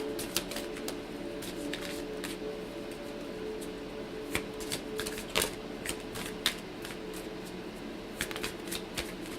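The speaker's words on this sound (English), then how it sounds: "I'm having a hard time shuffling today" Tarot cards being shuffled in quick, irregular bursts of crisp riffling clicks, close by, with a low steady hum underneath and no talking.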